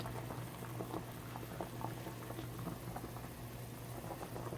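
Bagels boil in a pot of water, giving a steady, quiet bubbling and popping patter with a low hum underneath and no voices.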